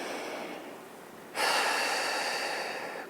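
A single breath during a Pilates reformer workout, soft at first, then a sudden stronger airy exhale about halfway through that holds steady to the end.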